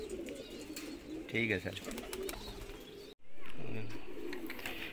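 Shirazi pigeons kept in breeding cages give low, repeated throaty coos up close, while someone talks briefly over the birds and steady background noise fills the space.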